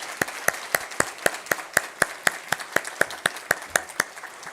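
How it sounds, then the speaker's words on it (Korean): A Sunday worship congregation applauding to welcome newcomers, heard as a crisp, regular series of unison claps at a steady rhythmic beat, moderately loud and close, with faint clapping between the beats. "자, 우리 박수로 환영하겠습니다."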